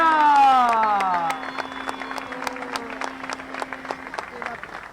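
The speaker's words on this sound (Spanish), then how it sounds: "Fuerte el aplauso para el Fer Contreras" Crowd applauds and cheers at a mountain bike race podium in Catamarca, with sharp claps spreading over a steady crowd roar while an announcer's voice and a tonal sweep ring loudly at first, then the clapping continues.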